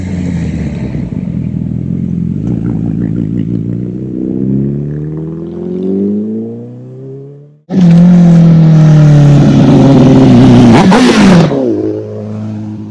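Motorcycles climb a mountain road past a hairpin bend during a motorcycle rally. One revs and fades into the distance, then another roars past up close, loud and accelerating, before trailing away.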